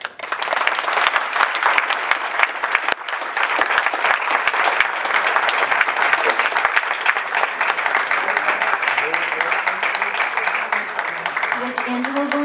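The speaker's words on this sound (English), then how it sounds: "let's give a great round of applause for Dominic Candeloro." A banquet-hall audience at a Man of the Year dinner breaks into sustained, loud applause that stays dense and even throughout, with a faint murmur of voices underneath.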